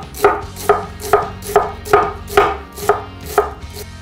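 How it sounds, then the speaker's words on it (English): A knife slicing half a head of red cabbage thinly on a board, eight crisp, evenly spaced cuts in a steady rhythm, close and loud with no talk. "we've got a half head of red cabbage here that we're just going to slice real thin"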